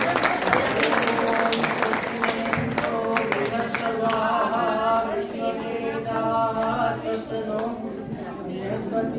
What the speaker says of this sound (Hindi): एक बार पूरा तालियों की गड़गड़ाहट।